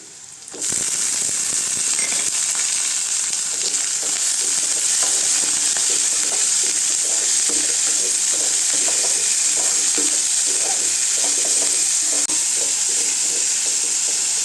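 Ridge gourd peel and onions sauté in a hot pan, giving a steady loud sizzle and hiss with repeated scraping stir strokes in an irregular rhythm throughout, close up and with no talking.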